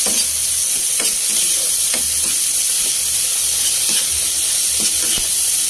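Onion and tomato sauté in reused frying oil, giving a steady, close sizzle with occasional crackles and stirring scrapes, no talk.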